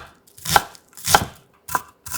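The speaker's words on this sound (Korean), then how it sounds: "달큰한 중간 사이즈 양파 4분의 1개는 칼집을 여러 번 넣고 작게 썰어" A knife chops a quarter of a medium onion into small pieces on a board: four crisp, close strikes spaced about half a second apart, with silence between them.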